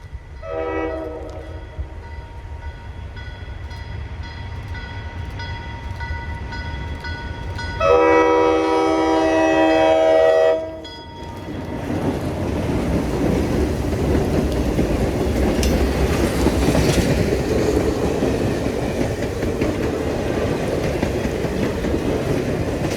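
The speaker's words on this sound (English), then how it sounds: "Here we see Adirondack Railroad's inaugural High Peaks Limited, led by Mohawk Adirondack in Northern 2042" Adirondack Railroad's inaugural High Peaks Limited, led by Mohawk, Adirondack & Northern locomotive 2042 with BC Rail heritage, sounds repeated loud horn blasts, then passes close by with a heavy, roaring rumble of rolling cars.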